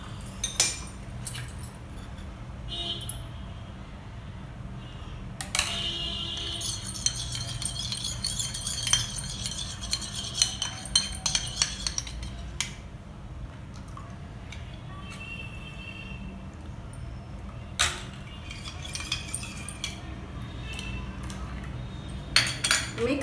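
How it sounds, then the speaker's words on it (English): A spoon stirs sweet lime squash mixture, clinking and scraping against the container in scattered bursts over a steady faint background, with occasional sharper taps, close by and fairly quiet. "Mix everything together very well."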